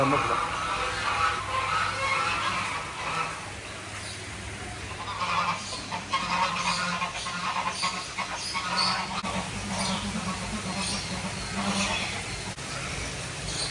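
A crested duck and a Brahma chicken call from a shared pen, with repeated nasal honks and clucks at close range, mixed with voices talking nearby.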